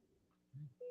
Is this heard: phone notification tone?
yes